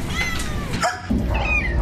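Cats meowing at an animal shelter, a few loud, close meows over a steady, noisy background in a short stretch.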